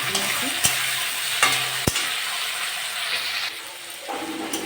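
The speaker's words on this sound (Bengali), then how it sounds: "আমি এবার টমেটোটা দিয়ে দিলাম একটা টমেটো" Tomato added to fried onions sizzles steadily in a hot pan, a continuous frying hiss with a few sharp stirring clinks, close and alone without talk.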